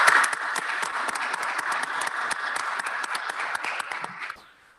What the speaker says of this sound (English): Let's give the new chief a round of applause.